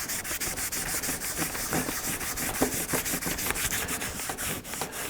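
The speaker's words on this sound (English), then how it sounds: "So I will just continue to fold to a clean piece of cloth and keep rubbing." A clean cloth is rubbed over metal alphabet stamps to lift dye residue, a close, rhythmic series of brisk scrubbing strokes repeating steadily throughout.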